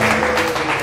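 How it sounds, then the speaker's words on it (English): Church congregation clapping during a worship service, a dense, steady wash of many hands filling the room at a constant loudness with no gaps. "I want to call upon you to clap unto Jesus"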